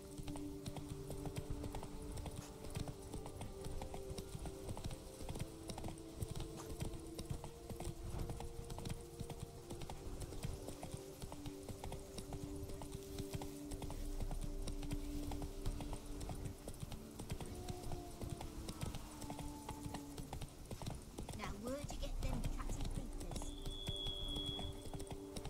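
Roach, a horse in The Witcher 3, clip-clops along at a steady walking rhythm, the repeated hoof beats sitting over soft game ambience and low background music.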